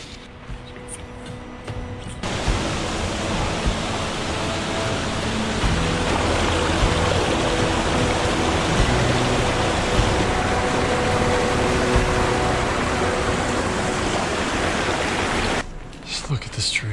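A mountain stream in New Zealand rushes steadily, loud and close, with a broad continuous wash of water that starts abruptly and ends a moment before the close.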